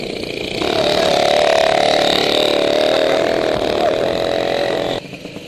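A Peugeot 103 SP moped engine runs steadily during carburetor tuning, a loud, close, buzzing two-stroke drone that swells after a moment, holds a high even pitch with slight wavers, then drops back toward idle near the end.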